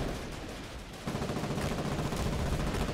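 Sustained automatic gunfire in a video game battle, aimed at a tank, a dense rapid crackle of shots that steps up louder about a second in and keeps rattling steadily without a break.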